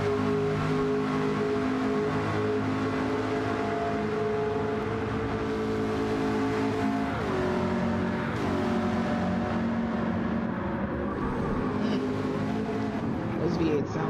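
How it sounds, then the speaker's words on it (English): V8 race car engines in a Gran Turismo racing game drone steadily at high revs, with pitch dips and rises through gear changes and a second car's engine layered in, continuous and close. "Those V8 sound so good."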